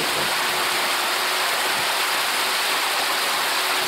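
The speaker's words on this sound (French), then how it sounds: "Là, il y a la dragonne qui éclabousse un peu." Water splashes and rushes steadily in the wake of SynerCiel, Jean Le Cam's racing sailboat, caught about 20 cm above the surface with the bobstay throwing spray. The hiss is loud, close and continuous, with no talking.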